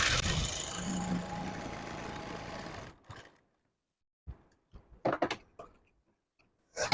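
A sewing machine runs steadily and loud for about three seconds while stitching a second seam line on a blouse neckline, then stops, followed by a few scattered clicks and handling bumps in near silence.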